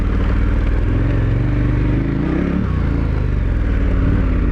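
Dual sport motorcycle on Mitas E-10 Dakar tires rolling down into a sandy wash, its engine droning loud and steady with low rumble and clattering wind noise throughout.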